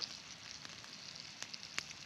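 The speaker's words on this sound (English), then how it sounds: "The coffee water is boiling" Soft steady hiss and faint crackle of coffee water heating toward a boil at a campsite, with a few small pops; quiet and close, no voices.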